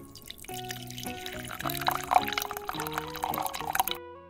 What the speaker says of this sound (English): Finally, she filled a balloon with water.